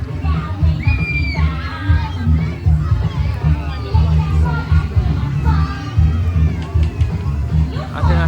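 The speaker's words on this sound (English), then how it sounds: "I think it's gathering a big crowd" A large Easter opening-day crowd, many school children among them, gathers at a stage show at Chessington amusement park, with steady babble, children shouting and occasional cheers throughout, close and fairly loud.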